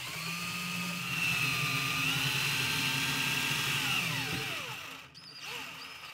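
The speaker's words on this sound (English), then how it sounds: "Now I can reach into the drawer with my drill and countersink the hole." A power drill countersinking a hole in wood whirs steadily at close range, its pitch rising and holding before winding down, followed by a brief quieter burst.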